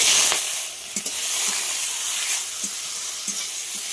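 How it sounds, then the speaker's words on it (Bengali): Washed sour spinach sizzling and frying in hot mustard oil tempered with dried red chilli and mustard seeds, a steady loud crackle with occasional stirring knocks. "ফোড়নটা দেওয়ার পর ধুয়ে রাখা টক পালংগুলো দিয়ে দেব"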